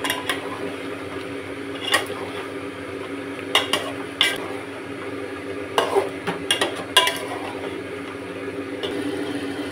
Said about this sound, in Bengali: এবার ভালো করে একটু নেড়ে চেড়ে নিচ্ছি